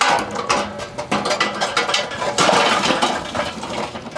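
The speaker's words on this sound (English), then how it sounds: "You can see our coals are starting to ash over here. We're just gonna get these dumped in the slow and sear." Lit charcoal coals tumbling into a Slow 'N Sear insert in a Weber kettle grill, a dense run of close metallic clatter and clinking scrapes lasting the whole few seconds with no talk.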